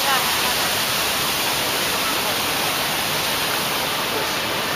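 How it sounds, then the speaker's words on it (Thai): A Malaysian waterfall pours with a dense, steady rushing roar that stays constant and fairly loud throughout. "โอ้โหก็มีน้ำตกนะนี่น้ำตกก็มี"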